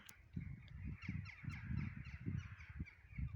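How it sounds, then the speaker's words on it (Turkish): Crows caw outdoors on a fine day in a rural yard where trees are being cut. Repeated harsh calls overlap one another above a steady background hum. "Bugün de çok karga var sanki."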